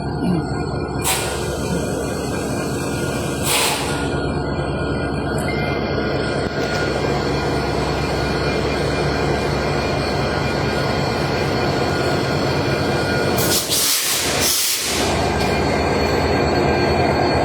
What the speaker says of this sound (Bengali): কিছুক্ষণের মধ্যেই সেই ট্রেনটি তার গন্তব্যের উদ্দেশ্যে অর্থাৎ চিলাহাটির উদ্দেশ্যে এই কমলাপুর রেল স্টেশন ত্যাগ করবে